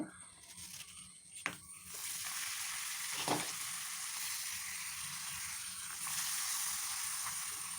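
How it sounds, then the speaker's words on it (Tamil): Appalam (papadam) fries in hot oil with a loud, continuous bubbling hiss, broken by a sharp crackle early on and a brief scrape partway through. "அப்பளத்தை ஓட்டை போட்டு வறுக்கணும்"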